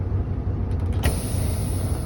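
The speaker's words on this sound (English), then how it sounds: "I'll release my tractor brake," A truck tractor's air brake releasing on a Class A automatic truck: a sharp hiss of escaping air begins partway through and carries on steadily over a low idling engine rumble, with a faint creak just before it.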